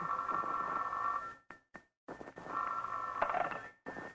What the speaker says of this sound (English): the next morning, the phone rang early.